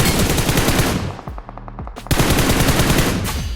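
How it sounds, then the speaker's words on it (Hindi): Rapid automatic gunfire from a battle royale video game, sustained bursts of loud machine-gun fire that pause briefly midway, then resume in a dense, continuous volley. "वहाँ से भी लगातार फायरिंग का साउंड आ रहा था"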